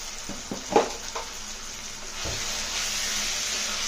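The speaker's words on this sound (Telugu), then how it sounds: "కొంచెం కారం వేసి చక్కగా కలుపుదాం" A spoon stirs chili powder into a potato and tomato curry in a pan, giving a few soft scraping knocks early on followed by a steady low sizzle, near and fairly quiet.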